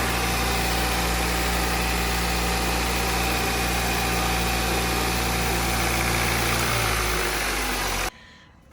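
Audi A3 fitted with an S3 engine running steadily, a loud, close, even drone with constant hum that continues unchanged for about eight seconds before cutting off abruptly.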